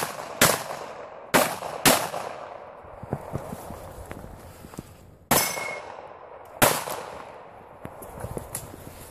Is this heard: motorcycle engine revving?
no